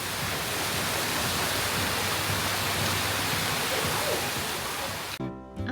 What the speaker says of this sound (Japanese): スコールのような雨が降っていました。